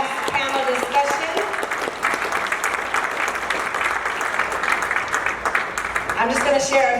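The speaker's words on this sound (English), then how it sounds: "Let's give another round of applause for our last panel discussion." Applause rises from an audience at a community panel event in Chicago, steady clapping with scattered sharp claps, while a voice speaks over it at the start and end.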